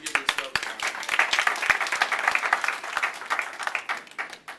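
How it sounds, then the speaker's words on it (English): An audience at a community town hall meeting breaks into applause, a dense burst of clapping that rises quickly and holds steady before tapering slightly, with no voices over it. "So please give yourselves a round of"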